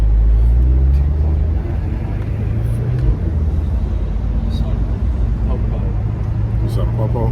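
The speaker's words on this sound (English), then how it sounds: "You can hear that V8 already." Corvette C8 Z51 V8 engine drones loud and close from inside the car, a steady low rumble that swells slightly while people talk over it.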